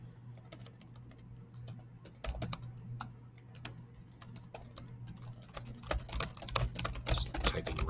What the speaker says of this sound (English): just typing random characters because that will take up more space